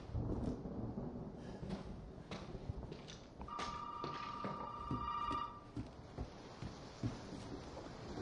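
A telephone rings in Resident Evil 7 with a sustained electronic tone lasting about two seconds, set against a dark, rumbling game ambience with scattered soft knocks.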